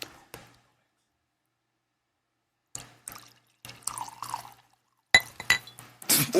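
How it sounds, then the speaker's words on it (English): Glasses chink and clink in a few sharp bursts at a party pregame, with quiet gaps between them and a louder cluster of clinks and pouring liquid near the end. "Oh, you got that clink in there."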